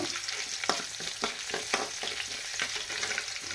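Urad dal and green chillies frying in oil in a pan, a steady crackling sizzle broken by a few louder pops and stirring scrapes, close and without talk.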